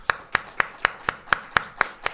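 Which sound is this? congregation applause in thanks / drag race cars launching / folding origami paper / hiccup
congregation applause in thanks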